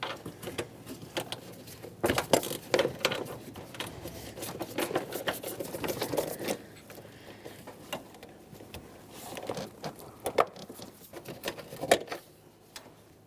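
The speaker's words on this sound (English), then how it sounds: "Go ahead and remove that bolt." A ratchet clicks rapidly in long runs of quick ticking, close and moderately loud, while a 10 mm bolt holding down the coolant reservoir is loosened on a 1999-2006 Chevrolet Silverado 1500 4.3L V6.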